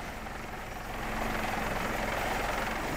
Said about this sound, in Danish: Da helikopteren lander igen